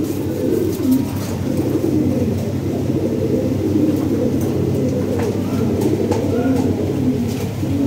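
A dense chorus of fancy pigeons cooing continuously at a market in Lahore, many low throaty calls overlapping at a steady level, with scattered faint clicks and flutters.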